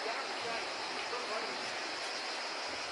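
A small waterfall inside a cave in Greece, heard as a steady, dense rush of falling water that holds constant and fairly near throughout, with no other clear sounds.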